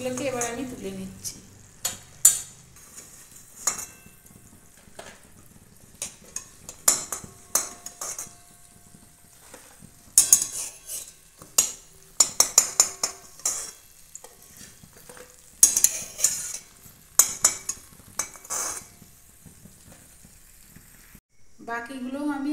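Fried paratha nimki being lifted out of hot oil, with repeated sharp clinks and scrapes of a utensil against the pan over a steady low sizzle, and brief talk at the start and end.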